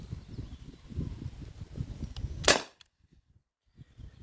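A modified T4E HDP50 pistol firing a steel ball bearing gives one sharp, loud crack close by, rising over a low rumbling background, then a brief near silence.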